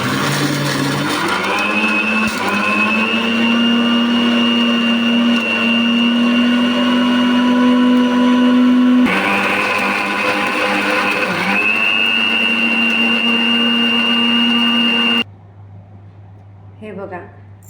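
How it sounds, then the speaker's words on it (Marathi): A kitchen mixer grinder pulverises chopped henna leaves with a little boiled water, its motor whining loudly and steadily for about fifteen seconds with one brief pause in pitch, then cutting off abruptly into near silence. "छोटे छोटे तुकडे करून मिक्सरमध्ये घालायचे."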